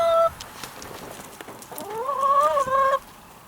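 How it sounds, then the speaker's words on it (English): Chickens clucking and calling up close as they eat roaches falling from a coop, with a few tonal squawks rising near the end over a rustling background. "Chickens are getting them."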